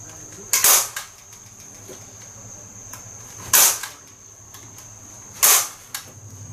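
Three sharp staple-gun shots, spaced about three seconds apart, fix a 3 mil sheet onto a 3D bear archery target being repaired; each close, loud snap stands out over a quiet room hum.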